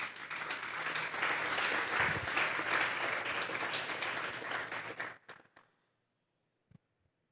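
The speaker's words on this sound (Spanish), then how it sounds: "Vamos a darle un fuerte aplauso pues al Señor." A church congregation claps together for about five seconds in a dense burst of applause, which then tapers off into near silence with a few stray taps.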